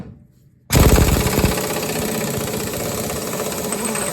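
Impact gun on a socket spinning a nut off a 1976 Mercury Monarch during power steering box work, a sudden loud rattling burst after a quiet moment, then a steady hammering buzz continuing close by.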